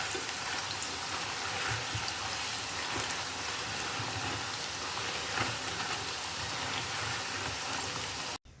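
Continuous crackling sizzle of tempe kriwil frying in hot oil over medium heat, a dense steady hiss that cuts off abruptly at the end.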